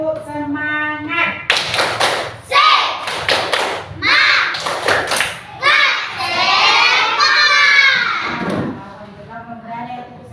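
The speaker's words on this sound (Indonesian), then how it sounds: "Coba tepuk semangat dulu." A group of children claps in a rhythmic pattern, shouting a chant between bursts of claps, loud and close, in a lively classroom.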